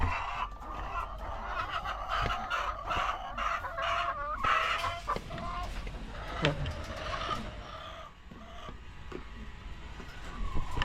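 Sick hens cluck and squawk close by while a rooster crows, with a person talking intermittently beneath the birds.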